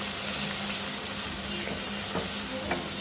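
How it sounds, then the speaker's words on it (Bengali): Spices, chili paste and ground chili for a shrimp and taro-stem curry sauté in a pan, giving a constant dense sizzle with faint stirring clicks under it. "এটাকে এখন ভালো করে কষাই নিব"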